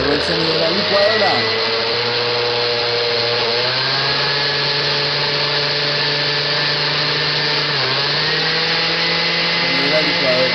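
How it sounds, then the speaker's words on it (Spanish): A kitchen blender whirs loudly and steadily, its motor pitch wavering and dipping slightly a couple of times as it runs continuously. "Luego el sonido de la licuadora."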